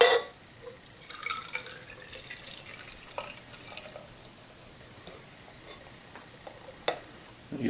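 Lagunitas Maximus IPA is poured into a glass: a quiet, close trickle of liquid with small splashes and drip-like ticks, faint and without speech.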